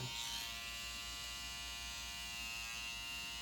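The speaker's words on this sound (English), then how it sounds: "I let the clipper do all the work." A hair clipper runs steadily and close up through a modern side part haircut, a continuous electric buzz held while trimming around the ear.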